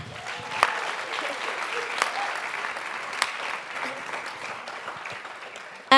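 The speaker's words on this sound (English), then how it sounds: "can we just please clap for Prof again?" An audience at an honorary lecture claps steadily at a moderate distance, a soft continuous patter of applause with a few sharper claps standing out.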